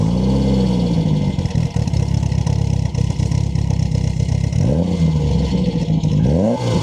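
The engine of a 1977 Volkswagen Golf GTI MK1 hatchback revs up through the gears, rising and dropping in pitch with each shift, loud and close over steady road noise.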